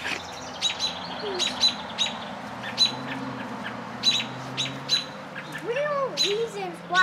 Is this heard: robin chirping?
yes